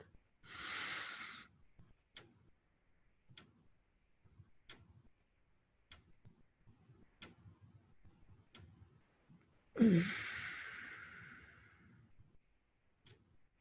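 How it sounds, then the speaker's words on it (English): Deep breathing during Tummo meditation: a long, strong breath near the start and another big inhale-exhale around ten seconds, with faint ticking between them and no talk. "Take a deep breath."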